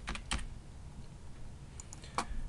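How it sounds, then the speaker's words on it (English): Quick bursts of keystrokes on a computer keyboard while entering words into an Excel accounting template, a few close clicks at the start and end around quiet room noise. "we could type the word account here"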